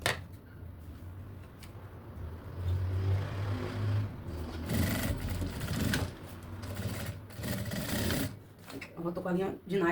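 Sewing machine running in bursts, stitching forward and backstitching with nylon thread while personalised goods are made, close and steady with faint clicks and handling noise between runs.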